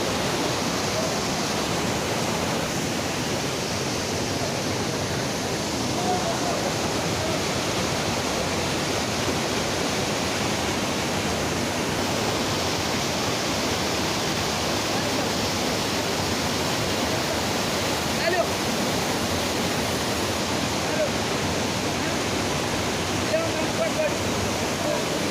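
Pulga waterfall near Grahan village in Kasol, Himachal, gives off a steady, full roar of falling water that holds evenly for the whole stretch, close and loud with no break.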